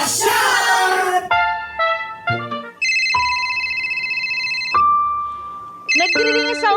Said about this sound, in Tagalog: Nagdiring ang cellphone mo sa bulsa mo.